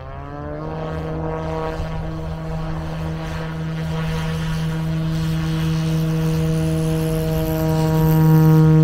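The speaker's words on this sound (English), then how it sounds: "now we have towed the plane to the other end of the runway, and Eric is ready to take off" A small propeller airplane starts its takeoff run down a runway, the engine droning steadily with a strong tonal hum that grows louder and rises toward the end, with no voices.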